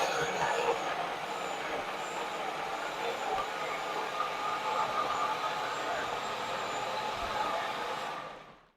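A blender whirs through a thick protein smoothie with a loud, dense roaring motor noise that stays steady for about eight seconds before stopping.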